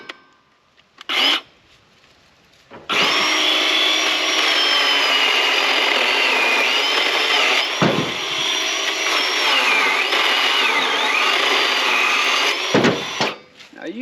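A 20-volt battery-powered saw cuts through a piece of wood about 3.5 inches across, a steady loud whine running for roughly ten seconds with a short burst before it and a brief dip partway through.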